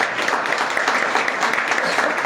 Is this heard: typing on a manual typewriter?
no